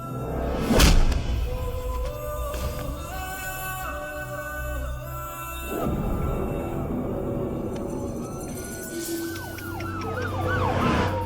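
A police vehicle siren wails as it arrives, loud and continuous with rising and falling tones over street noise, in a dramatic crime scene.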